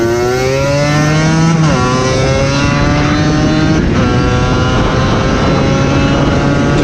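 Two-stroke dirt bike engine running poorly and bogging from a carburetor problem, loud and close, with a steady buzzing drone whose pitch sags and then recovers slightly; no talking.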